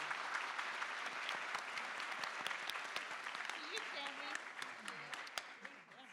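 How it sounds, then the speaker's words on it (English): Audience applause for a panel at a women in leadership event, a steady crowd of clapping hands with sharp individual claps standing out, and voices talking over the tail end. "can we please give our wonderful panel a round of applause?"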